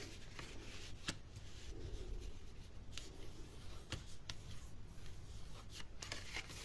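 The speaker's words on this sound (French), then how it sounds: "On va déjà plier les grands axes." Paper being folded along the main axes for a Valentine's pop-up card, with soft continuous rubbing and rustling plus a few sharp creasing crackles, close and steady with no talk.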